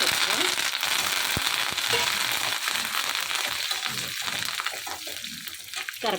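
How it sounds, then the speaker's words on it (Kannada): Chana dal, dried red chillies and curry leaves frying in hot oil, a dense close sizzle with crackling pops throughout, fading slightly toward the end. "ಕಡಲೆಬೇಳೆ ಬೇಳೆ ಹಾಗೆ ಅದು ಫ್ರೈ ಆಗ್ತಾ ಇದ್ದಂಗೆ"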